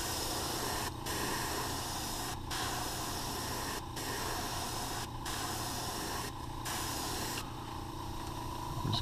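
An airbrush or spray gun sprays paint onto a baby bass crankbait fishing lure, a steady close hiss running almost without a break, cut by several brief pauses between passes.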